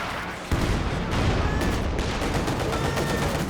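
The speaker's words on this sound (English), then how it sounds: "Double anti-tank gunshots missing" Rapid anti-tank gunfire in a competitive video game match, a dense burst of loud sharp shots starting abruptly and continuing steadily to the end, with no talk over it.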